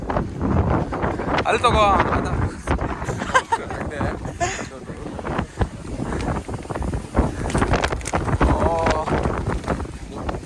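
Wind buffets the microphone during a motorcycle ride from Bengaluru to Wayanad, a rough broadband roar that rises and falls under people talking throughout.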